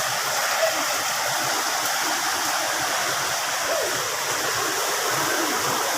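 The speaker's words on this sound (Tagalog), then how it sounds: "Batis, ayun oh." Stream at a nature camp in Tanay, Rizal, a steady broadband rush of flowing water, constant and fairly close, with no voices.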